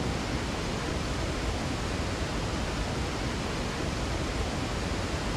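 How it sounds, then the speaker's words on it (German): A loud waterfall in the video game Resident Evil 4 roars as a dense, unbroken rush of water, steady and alone throughout. "ist ganz schön laut, der Wasserfall"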